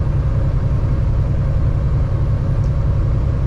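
A heavily loaded truck, weighed down with snow and ice, grinds along in low gear through snow near Hearst, Ontario, with the throttle almost to the floor; a loud, steady, deep engine rumble fills the cab without pause.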